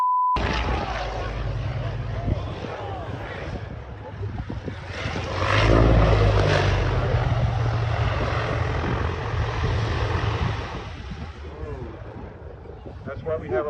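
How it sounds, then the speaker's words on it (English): A cargo plane landing in Geneseo, tilting dangerously on touchdown, with a steady propeller-engine drone that swells louder mid-clip, while voices talk over it throughout. "A cargo plane's landing in the American city of Geneseo nearly ended in disaster."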